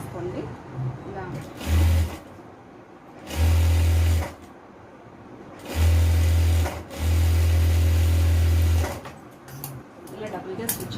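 Sewing machine stitching cloth for a simple frock, running in four short bursts of steady whirring, the last burst longest, with someone talking quietly between the runs.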